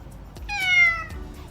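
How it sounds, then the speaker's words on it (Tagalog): A house cat meows indoors in a single clear, drawn-out call lasting about half a second, close and fairly loud against a quiet room. "pag may pusa sa bahay, ganyan talaga"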